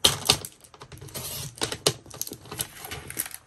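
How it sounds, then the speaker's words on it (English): Scissors snip through the end of a paper window envelope from junk mail, a quick run of close, crisp cutting clicks and rustles with sharp bursts between quieter paper handling. "Let me cut the end off because this will make it a little easier."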